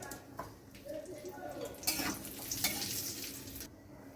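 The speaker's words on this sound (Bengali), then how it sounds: "এবার এই ঘিয়ের মধ্যে আমি দিয়ে দিচ্ছি কুচানো কাজু।" Chopped cashews and a couple of bay leaves fry in hot ghee for a semiya payasam, giving a steady soft sizzle with light stirring and faint pan clinks close by.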